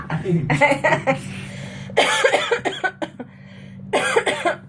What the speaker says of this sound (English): it's making me cough again now